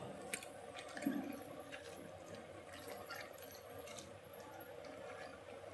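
Prawns and mushrooms being washed by hand in cold water, with soft squishing and sloshing at an even, low level and a slightly louder splash near the start.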